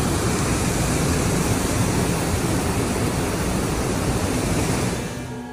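Rushing floodwater of the Muromi River in northern Kyushu during record torrential rain, a loud, dense, continuous roar that holds steady throughout and fades slightly at the very end.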